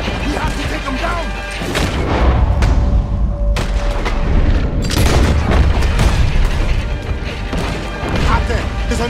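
Heavy gunfire and booming cannon blasts in Red Dead Redemption 2 during a shootout, with dense overlapping shots and explosions under shouted voices.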